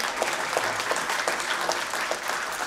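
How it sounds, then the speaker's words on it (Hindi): Audience applause at a poetry recital gathering honoring a poet, dense steady clapping from a seated crowd, fairly loud and sustained across the whole stretch. "उनके लिए तालियां बजा दीजिए।"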